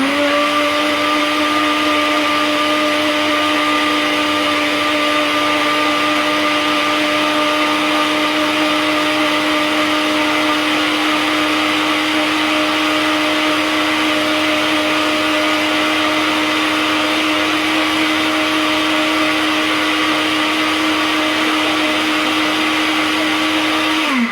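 A blender mixing coffee, butter and MCT oil whirs loudly and continuously at high speed for a long stretch, a steady motor whine that cuts off abruptly at the end.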